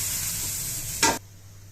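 Dosa batter hits a hot griddle with a sizzling hiss that swells briefly into a sharp, bright burst near the end, then cuts off to a quiet background hum.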